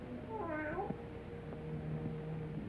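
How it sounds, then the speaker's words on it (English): A cat meows among the graves of a cemetery at midnight in an old film-noir crime thriller, a clear rising-falling call early on, followed by faint ambient noise. "how often have I told you to keep that cat from desecrating my graves?"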